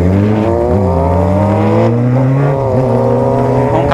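Yamaha XJ6 motorcycle with a full-power exhaust revving hard up close, a loud steady engine drone that climbs and dips through several throttle blips over four seconds.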